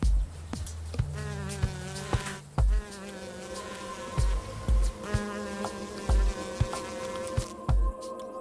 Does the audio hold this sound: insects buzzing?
yes